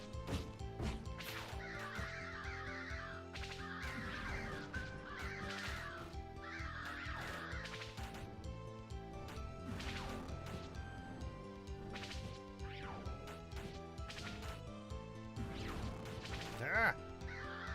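Crows caw repeatedly in the video game Bullet Heaven, bursts of cawing rising over busy game music and effects, with a player's voice talking at times.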